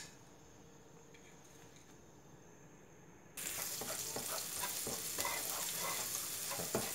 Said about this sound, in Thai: ตั้งกระทะให้ร้อนครับเดี๋ยวเราใส่พริก ที่เราซอยไว้กับกระเทียมลงไป